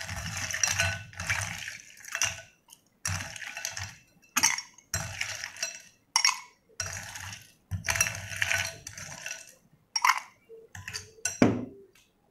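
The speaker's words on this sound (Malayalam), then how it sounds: "ഓക്കെ, ഇനി നമുക്ക് ഐസ് ക്യൂബ്സ് ചേർക്കാം." Ice cubes drop into a homemade watermelon mojito over crushed mint leaves, giving loud, close rattling clatters in irregular bursts with short pauses between them and a sharper clink near the end.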